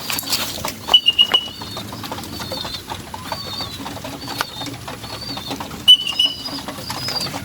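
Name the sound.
pigeons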